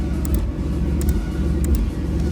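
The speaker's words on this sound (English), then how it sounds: "As you guys can hear, the car bogs out." A car engine fitted with a flame kit bogs down, a loud, steady low rumble that sputters and cuts in and out, with faint sharp pops and crackles over the drone.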